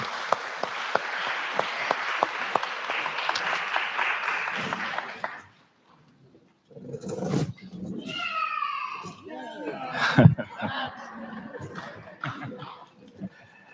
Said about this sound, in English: Let's have a round of applause for the panelists